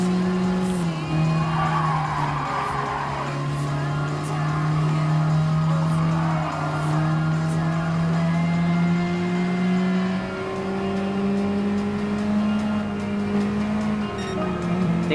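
A Honda Beat kei car races in Gran Turismo Sport, its small engine whining steadily upward through the gears while the tires skid and squeal, continuous and fairly loud with no talk over it.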